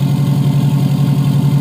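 A Subaru EJ257 engine with a freshly installed custom up pipe runs at a steady idle, a loud, close, evenly pulsing low drone.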